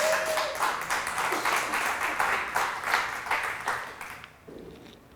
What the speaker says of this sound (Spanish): si va a aplaudirle a Dios, apláudale con ganas